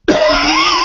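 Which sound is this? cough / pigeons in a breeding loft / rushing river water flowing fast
cough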